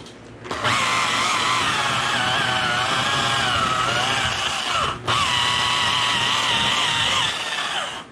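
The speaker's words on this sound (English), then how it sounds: "the machine polish on the black pad" A machine polisher with a black pad buffs rubbing compound into car paint while correcting orange peel, giving a loud, steady whirring drone close by with one brief dip midway and no talking.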